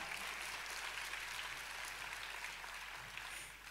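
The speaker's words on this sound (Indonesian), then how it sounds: "Tepuk tangannya boleh yang paling meriah." A church congregation applauds during a sermon, giving a steady, dense wash of clapping from many hands. The clapping stays fairly distant and even throughout, with no distinct individual claps standing out.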